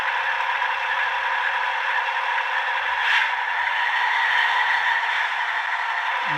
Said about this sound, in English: that's a little clanking. I think that's a compressor.